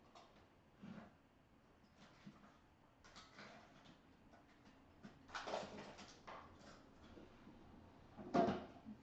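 A drawer in a gouache painting workspace is opened and closed to fetch a blade, giving faint sliding rumbles and soft thumps, with one sharper knock near the end in a quiet room.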